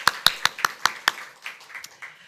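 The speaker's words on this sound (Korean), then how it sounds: "우리 실로암 찬양대에 감사의 박수 드리겠습니다" Applause for a church choir after a Sunday service, heard as about six sharp, fairly close hand claps in a quick run, then softer scattered clapping fading out.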